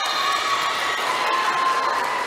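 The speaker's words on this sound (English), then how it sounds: "And look at the crowd" A crowd in the Paco Arena at a volleyball match cheers and shouts in a continuous, loud roar with high-pitched voices throughout.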